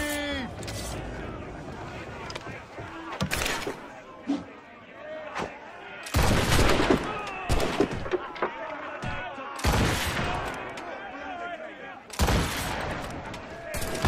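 Gunfire from naval combat in Assassin's Creed Rogue, with loud bursts of cannon and musket shots arriving in heavy volleys amid shouted voices and battle noise.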